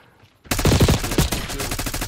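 Rapid SMG fire in Black Ops 6 free-for-all erupts after a quiet half second, a loud dense burst of shots with a brief stutter, continuing as close, sustained gunfire to the end.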